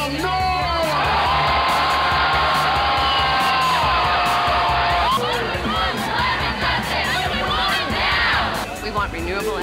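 A large crowd at an outdoor climate rally roars, whoops and cheers loudly and continuously, with shouting voices mixed into the sustained din close by.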